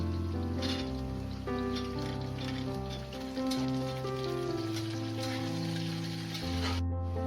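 Carrots and beans sizzle steadily in oil in a frying pan for Bengali fried rice, a dense, continuous close crackle with a low tonal hum beneath and no pauses.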